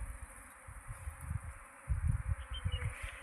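A honey bee swarm pours out of two hive boxes one after another, a steady low insect buzz droning throughout, with a louder, denser surge of nearby buzzing in the second half.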